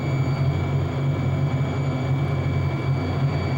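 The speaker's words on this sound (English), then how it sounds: "you can hear a change in a gurgle in the background noise. That's the vacuum pump starting to pull down." A vacuum pump on a neon tube-filling system pulls down with a continuous low mechanical drone and faint gurgle, steady and unchanging throughout.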